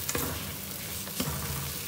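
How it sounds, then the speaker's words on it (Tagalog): Moringa (malunggay) leaves sizzle in a small amount of hot oil as they are sautéed, a steady close frying hiss with a couple of soft stirring clicks and no talking. "Gisa na natin kunti kasi yung malunggay para mas malasa."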